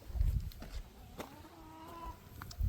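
Backyard chickens cluck faintly in short bursts at a distance, soft farmyard sounds over a quiet outdoor garden background.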